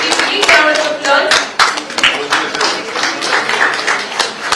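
Close, loud clapping from an audience applauding prize winners at a World Environment Day celebration, an uneven patter of hands with some individual claps standing out and faint voices beneath.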